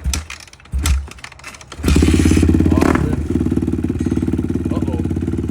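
A Suzuki RMZ450 450cc dirt bike engine fires up after a few dull thumps and knocks, then settles into a loud, close, steady rhythmic idle that pulses evenly until the end.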